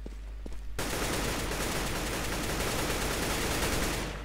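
Sustained burst of automatic gunfire in Counter-Strike: Global Offensive on the Inferno map, starting abruptly after a quiet moment and continuing loud and dense for several seconds before tapering off at the end.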